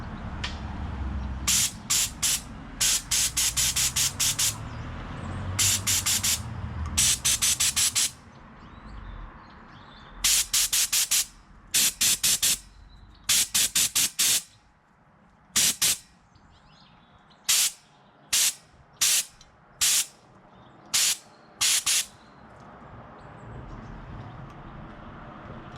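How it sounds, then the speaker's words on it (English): A compressor spray gun fires ACF50 anti-corrosion fluid in a fine mist, heard as repeated loud, sharp hissing bursts of one to two seconds each, separated by pauses over a low background rumble, with no talking. "There's a really fine spray."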